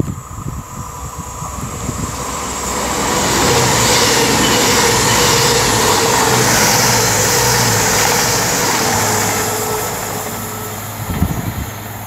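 Class 221 CrossCountry diesel trains 221.136 and 010 passing at Bromsgrove on the Lickey Line, a loud rising engine and wheel roar that builds, holds for several seconds close by, then fades with rail clatter at the end.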